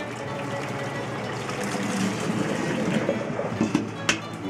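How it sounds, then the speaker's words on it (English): Hot water poured from a pot of cooked lasagna noodles, a steady splashing gush that runs continuously and grows slightly louder near the end, with a small clink at the close. "I'm just going to pour some out."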